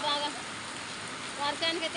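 Heavy rain pours down in a steady, dense hiss that swells slightly near the end, with faint background voices under the downpour.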